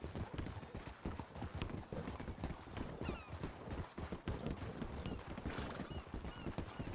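Horse hooves clip-clop in a steady, continuous walking rhythm on a road, close and clear throughout, with a faint whinny heard once.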